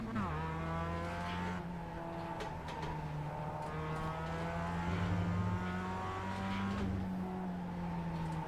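Mazda MX5 Cup race car in iRacing at Okayama, its engine note rising and falling through the gears while tyres squeal in drawn-out bursts, loud and continuous throughout.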